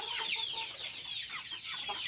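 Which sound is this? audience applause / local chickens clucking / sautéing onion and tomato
local chickens clucking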